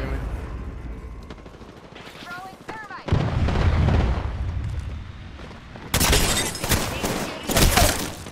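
Gunfire and explosive impacts in the online shooter Rogue Company, heavy bursts arriving in loud waves over several seconds, with voices talking between and over the shots.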